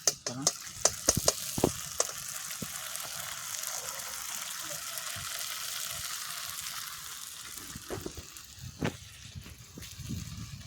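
Flattened rice (chira) added a little at a time to a hot pan for pulao, sizzling and frying steadily with scraping stir sounds and clinks, no voices over it.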